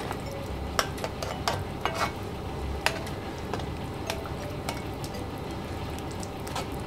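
Flour is stirred into a simmering Caribbean lamb shank sauce in a pot, a soft bubbling sizzle broken by a series of sharp spoon clicks and scrapes against the pan, close and steady with no speech.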